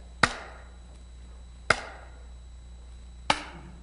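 Three sharp knocks on a speaker cabinet panel, evenly spaced about a second and a half apart, each a crisp hollow thud with a brief ringing decay, recorded alone.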